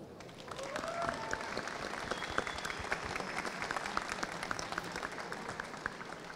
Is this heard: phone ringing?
no